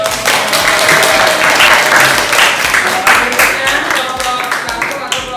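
A high-school classroom bursts into applause for a student group, a loud dense clatter of many hands clapping close by, with a voice talking over it.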